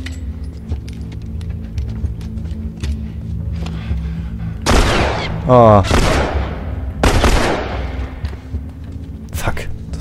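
Gunshots in The Last of Us: about four loud, sharp blasts spread over several seconds, standing out over steady background game sound, with a man's brief exclamation.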